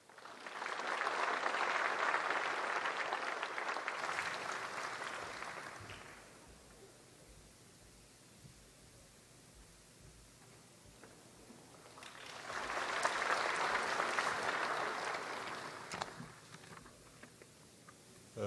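Two rounds of audience applause at the opening ceremony of a Korean education fair, welcoming the education minister, each a broad, even wash of many hands, separated by a quiet hall lull.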